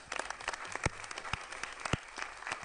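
Scattered applause from an audience at a county commissioners' board meeting, a handful of separate, uneven claps ringing out over about three seconds rather than a full ovation, fairly close and with no talk over them.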